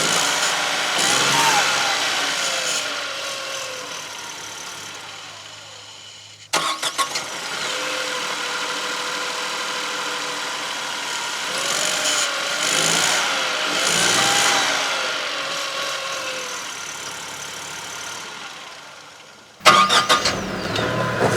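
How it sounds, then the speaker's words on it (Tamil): A Tata Nexon turbo diesel engine cranks and catches, then settles into a steady close idle. The start is heard more than once, with abrupt jumps between takes. "ஃபஸ்ட் இந்த இன்ஜினோட ரிஃபைன்மெண்ட்டுங்க, சத்தம் எப்படி இருக்குது, வைப்ரேஷன் எப்படி இருக்குது,"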